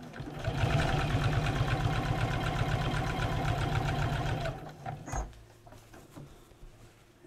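Sewing machine stitching a fabric hexi pouch, a fast steady mechanical patter running loud and close for about four and a half seconds, then stopping abruptly, followed by quieter handling noises.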